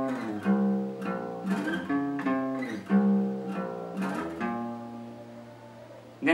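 Guitar plays the riff pattern from a song, a few struck chords and picked notes that ring and decay in a slow repeating rhythm, fairly quiet and close, with no talking.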